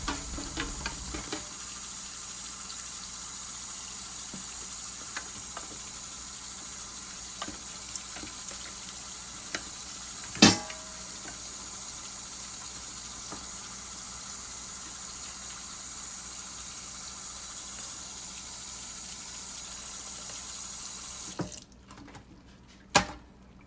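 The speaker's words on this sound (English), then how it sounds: "to rinse everything out to make sure I get all that dust particles off. And also, you want to use cold water" Food rinsed under cold running water from a kitchen tap into a sink, a steady close hiss of flowing water with a few small clunks, ending abruptly when the tap shuts off.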